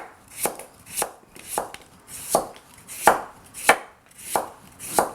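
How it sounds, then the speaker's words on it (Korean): A knife julienning pear for kimchi gives eight crisp, evenly spaced chops on a cutting board, about one every two-thirds of a second, close and clear with no talk. "채 썰어 주세요."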